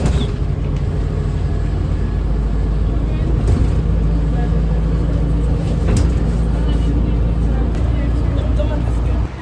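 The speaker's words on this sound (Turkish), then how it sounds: "Otobüse gidiyoruz maalesef." Steady engine rumble and road noise inside a moving city bus, loud and continuous throughout, with occasional rattles and thumps and people talking over it.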